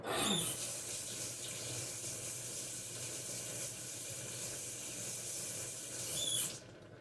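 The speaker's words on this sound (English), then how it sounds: "Let me rinse my spoon off." A spoon is rinsed under a running kitchen tap, a continuous soft hiss of flowing water with a brief squeak at the start before the flow cuts off near the end; faint and close, with no speech.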